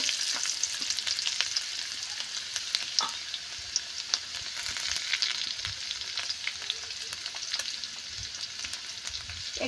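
Spice paste sizzles and crackles steadily in a hot pan for an Indian-style omelette curry, a dense continuous hiss dotted with sharp pops and the occasional scrape of stirring.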